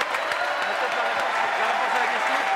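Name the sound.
applause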